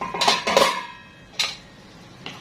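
A spoon scrapes and knocks against a cooking pot as onions are stirred, giving a few close clattering strokes early on, then two brief isolated clinks after a pause.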